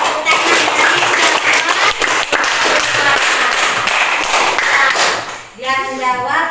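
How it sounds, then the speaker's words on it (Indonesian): Classroom students clap together on a teacher's cue, a loud, busy burst of many hands that runs for about five seconds. It then stops, and a voice speaks afterward. "Bagus, kita tepuk tangan."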